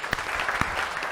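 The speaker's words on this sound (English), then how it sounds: "final round of applause" Brief burst of audience applause at a tech showcase event, a dense clatter of clapping with a couple of sharper claps standing out near the start and middle.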